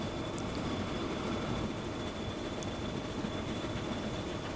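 A Transport Fever 2 train running on diesel and steam power at once gives a steady rumbling rail drone with a faint high whine, continuous and moderately distant, with no talking.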